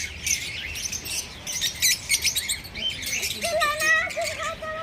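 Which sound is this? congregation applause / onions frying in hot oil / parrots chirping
parrots chirping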